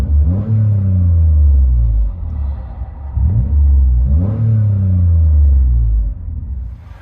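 A 2013 Toyota Highlander with a 3.5L V6 and dual exhaust with the mufflers deleted revs hard twice, each burst climbing then falling back to a deep, loud idle rumble, heard up close with no talking.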